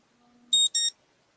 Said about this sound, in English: I set a alarm on my phone